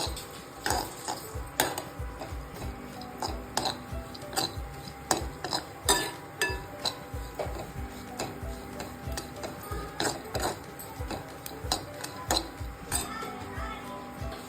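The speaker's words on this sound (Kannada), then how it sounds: "ಡ್ರೈ ಫ್ರೂಟ್ಸನ್ನು ಮಾಡ್ಕೋಬೋದು. ಈ ರೀತಿಯಾಗಿ ಹುರ್ಕೋಬೇಕು 1-2 ನಿಮಿಷಗಳ ಕಾಲ" Mixed dry fruits are roasted and stirred in a pan, with a steady run of close scraping and clinking from a spoon against the metal, while someone talks over it.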